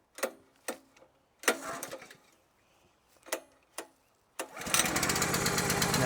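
A Split-Fire 3490 log splitter's small engine is pull-started on choke: several sharp recoil-cord yanks with pauses, then the engine catches and settles into a steady close running drone.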